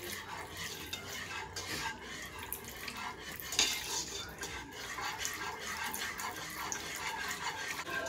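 Turkey gravy whisked constantly in a pan produces a fast, steady metallic scraping and swishing that carries on evenly throughout, moderately quiet and close, with no voice over it.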